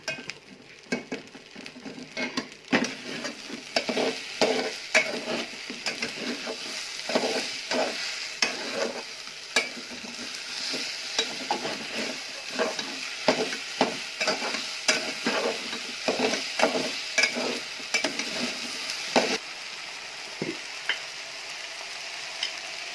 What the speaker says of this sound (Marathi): गूळ टाकणार आहे, बारीक करून घ्यायचा आणि आपण जे गव्हाची भरड टाकले त्याच्यात असं टाकून घ्यायचा वितळून